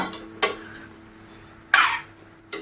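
A spoon scrapes and clatters against a pot while lablab bean vegetable with jaggery is stirred, three sharp knocks spaced apart over quiet kitchen background.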